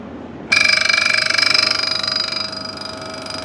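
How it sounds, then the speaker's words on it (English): A DF54 coffee grinder runs with its burrs touching, starting abruptly with a loud, high, ringing metallic whine that holds steady, then gradually fades and thins toward the end. "Right, so let's turn on the grinder."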